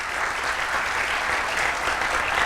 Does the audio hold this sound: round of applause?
yes